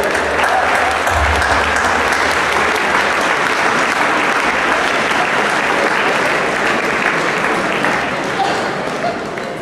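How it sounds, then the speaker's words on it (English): A high school audience gives a loud, dense round of applause in an assembly hall, sustained and even throughout, close and full with crowd noise mixed in. "Round of applause there, super."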